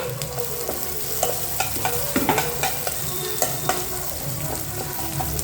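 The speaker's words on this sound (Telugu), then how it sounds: "ఇది ఉల్లిపాయ వేసుకున్న తర్వాత పోపు అంతా కలిసేలా ఒక్కసారి కలిపేయండి" Chopped onion stirred into a hot tempering of spices in a pan for a ridged gourd curry, a steady sizzle of frying under repeated scraping spoon strokes, close and continuous with no talking.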